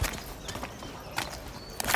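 Horse hooves clip-clop in a radio drama scene, several close, uneven hoofbeats over a busy background.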